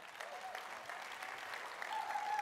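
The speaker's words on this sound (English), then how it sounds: "round of applause for my ladies" An audience claps steadily at a play equity summit as guests are welcomed, a dense, even wash of applause at moderate level with a faint tonal whistle near the end.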